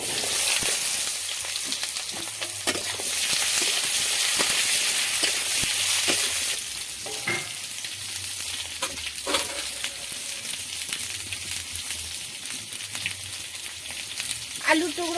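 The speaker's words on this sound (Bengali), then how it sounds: "পাঁচফোড়ন শুকনো লঙ্কা তেজপাতা লাল লাল করে ভাজা হয়ে গেছে এর মধ্যে সবজি কটা উঠিয়ে দিচ্ছি" Vegetables sizzle loudly in a pan of hot oil with five-spice seeds, dried chillies and bay leaf, a steady close hiss broken by scraping stirs as the pieces go in.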